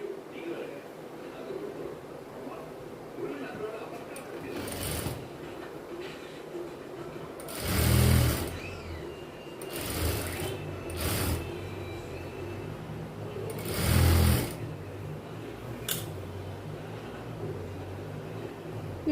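A sewing machine runs a rough side seam on a girl's silk pattu pavadai skirt, sounding in a few short mechanical bursts separated by quieter stretches of room noise.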